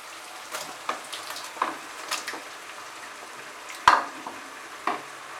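Mutton liver pieces fry with spices in a pan, soft sizzle punctuated by irregular scraping stirs and clinks of a spatula, close and fairly quiet, no talk.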